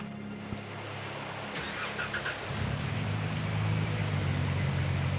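A pickup truck engine in the Gold Mining Simulator video game cranks, then catches and settles into a loud, steady idle that runs to the end. Nobody speaks.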